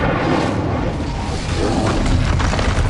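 A roaring whoosh of flame from the Incendio fire spell in Hogwarts Legacy, a loud, steady rushing burst that fills the whole moment without a break.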